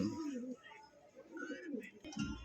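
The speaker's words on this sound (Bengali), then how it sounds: "খুবই সুন্দর একজোড়া মুখী গোল্লা কবুতর না ভাই?" Pigeons at a wholesale pigeon farm coo softly in rolling, throaty phrases, close but quiet, with faint murmuring in the background.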